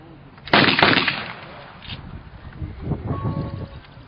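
One artillery gun firing, a single loud, close blast followed by a rolling, fading rumble over wind noise.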